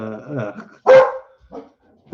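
A single loud, sharp dog bark rings out close by, followed by a fainter short yip, while a person speaks in a soothing tone just before it.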